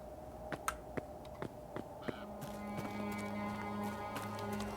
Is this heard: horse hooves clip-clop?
yes